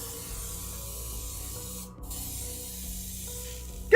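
A can sprays a heavy protective coat onto a Kingdom Death: Monster miniature, a steady close hiss that dips briefly midway before continuing, with no voices.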